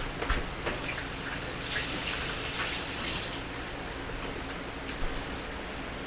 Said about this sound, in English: I'm going to wash my hands really quick.